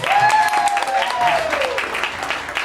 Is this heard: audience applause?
yes